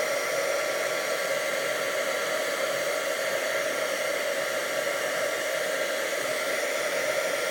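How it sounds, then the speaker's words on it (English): A heat tool blows hot air steadily for heat embossing stamped powder, a constant close, loud whooshing roar with no breaks or talk. "I should have warmed my heat tool"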